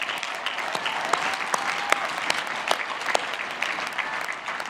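A large crowd applauds faculty and staff at the University of Virginia Class of 2021 graduation ceremony, with sustained dense clapping, sharp individual claps standing out, and faint crowd noise beneath.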